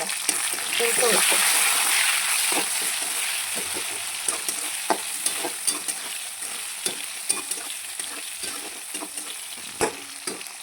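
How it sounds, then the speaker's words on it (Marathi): Onion frying with ginger garlic paste in a pan, a loud hissing sizzle at first that eases into a steady crackle with scattered taps of a spoon, close by. "कांदा लाल तरच तळू द्यायचा"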